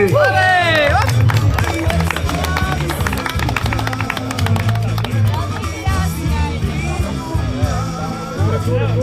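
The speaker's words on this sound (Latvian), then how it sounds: "Viens ir labi aplausi!" Crowd clapping and cheering at a men's final of a beer six-pack holding contest, a dense steady burst of applause with shouts and lively talk over it throughout.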